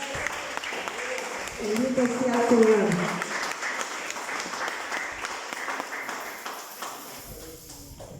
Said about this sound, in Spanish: ¿Cuánto le da un aplauso al Señor?